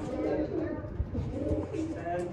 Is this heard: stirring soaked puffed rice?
no